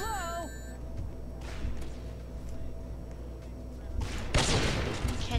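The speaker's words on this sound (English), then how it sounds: "I wasted my shot on someone that had like that little invincibility shield on" A gunshot fires in the Roblox game Slay Em All amid game music and beeps, and a louder broadband blast lands near the end over ongoing game ambience.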